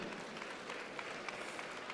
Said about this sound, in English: The biggest round of applause, I must tell you.